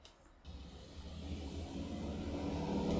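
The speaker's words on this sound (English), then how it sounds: "there's some more traffic sounds for you" A car passes on a road, a low rumble that swells steadily from quiet to loud over a few seconds, heard alone without talk.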